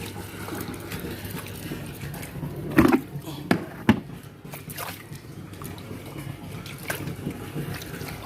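Water being pushed along a hot rooftop by foot while cleaning a water tank, shallow sloshing and splashing with a few louder sweeps, under a person talking.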